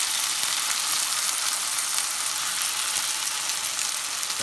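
Black beans frying in a hot pan give a steady, loud, hissing sizzle that holds unbroken for the whole clip, with no talk over it.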